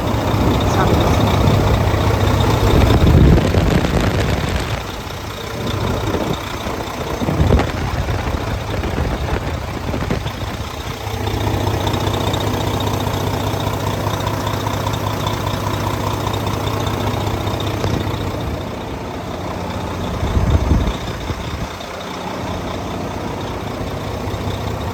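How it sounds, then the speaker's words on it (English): A truck's diesel engine idles steadily and loudly nearby, a rough knocking drone with a brief revving swell; the engine has an oil leak from the oil filler pipe. "the engine was running"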